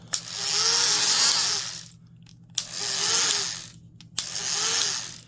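Porter-Cable oscillating tool with a dry rear bearing, running in three bursts, each a loud buzzing whine with a faint hooting undertone, separated by short pauses and sharp clicks, close and without talking.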